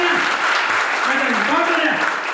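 Audience applause in a Hindi business talk by a company MD and CEO, a steady dense wash of clapping over the full stretch, with tonal voice-like traces running through it.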